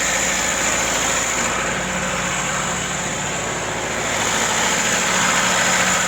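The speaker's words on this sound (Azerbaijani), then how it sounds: "Biraz karbüratorun fısıltısı işləyir." A cold car engine idles steadily at close range, a constant low mechanical drone with a broad hiss from the carburetor running through it, unbroken and even for the whole stretch.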